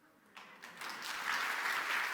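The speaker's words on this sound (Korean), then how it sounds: "분명히 박수 쳐줬습니다." Applause rises from a thin start into a steady wash of clapping from a church congregation, growing louder and fuller over a couple of seconds.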